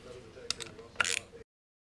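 Bolts being worked loose from the shifter plate on a Suzuki GS850 motorcycle during a winter service: a short burst of ratcheting clicks and metallic clinks, close and fairly faint, lasting about a second and a half before stopping.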